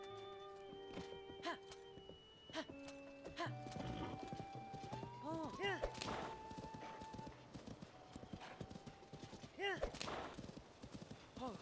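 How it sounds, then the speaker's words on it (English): Hooves clip-clop in a steady galloping rhythm in Zelda: Tears of the Kingdom, with a horse neighing and whinnying over layered game music and effects; a voice talks intermittently. "He's not the fastest horse."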